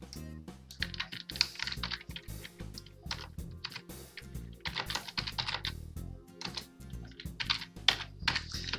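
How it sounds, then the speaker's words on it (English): Close, quiet typing on a computer keyboard, with quick irregular bursts of key clicks and brief pauses between runs of keystrokes. "if you do this manually, you would have to type in the text"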